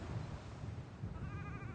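Sheep on a Scottish island farm bleat in a short, moderately close burst, with wavering calls toward the end over low rustling background noise.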